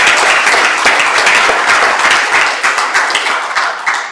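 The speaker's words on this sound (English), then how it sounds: "We have another round of applause." An audience inside Hexham Abbey gives a loud, dense round of applause at a launch event, many hands clapping together for several seconds before the sound begins to thin out into scattered claps.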